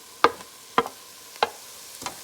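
Four spaced scraping clacks of a spoon stirring thyme and garlic into a pot of kitchri, each a short sharp knock about half a second apart, close with no voices.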